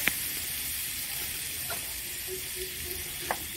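Dried red chilli powder and chopped green chillies frying in a pan for an egg and pumpkin flower dish, a soft, continuous sizzle and hiss with a few faint clicks of utensils.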